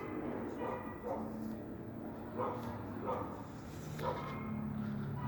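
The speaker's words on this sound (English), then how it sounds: "the dogs just can't get over the fact that I walked by" Dogs bark from some distance at someone walking past a Roxbury Drive home, giving several muffled barks spaced about a second apart beneath steady street ambience and a man's speech.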